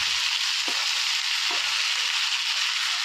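Vegetables sizzle steadily in a hot pan, a tiffin-style stir-fry of onion stalks, carrot, beetroot and potato. The hiss is dense, loud and continuous, with a few soft stirring knocks and no talking.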